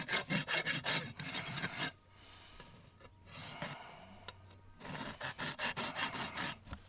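A farrier's rasp files excess hoof wall smooth on a horse being shod, in two bursts of quick, rhythmic scraping strokes, close and loud, with a quieter pause between them.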